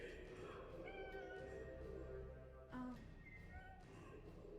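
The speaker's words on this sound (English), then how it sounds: "Does anyone hear a cat?" A cat meows a few times, faint and somewhat distant, under the low murmur of people talking over a tabletop game session.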